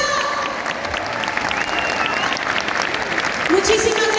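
Audience applause fills an orchestra concert at La Cigarra, a dense, steady wash of clapping with voices and some tonal sound mixed in throughout.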